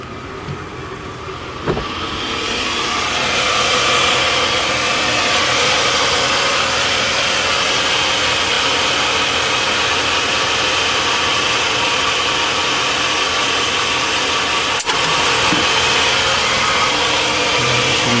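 A car engine idles steadily and loudly up close during an alternator test, with a constant even hum and a single sharp click near the end.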